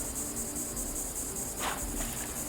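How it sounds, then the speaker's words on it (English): In Fallout 76 at night, a continuous, high, pulsing chorus of crickets fills the air, steady and fairly loud, with a brief soft rustle near the end and no talking. "More cricket sounds rather than frogs."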